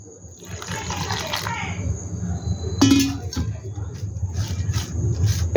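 Coriander-leaf pakora batter is beaten by hand in a bowl, making a steady wet squelching and slapping with a brief louder splash midway, heard up close.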